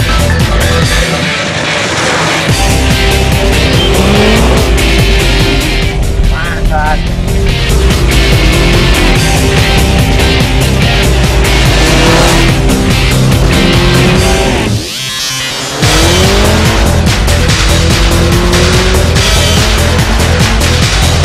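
A powerful gentleman's car roars continuously at full throttle, loud and close, with rising and falling engine revs, a brief gear-change dip and squealing tires.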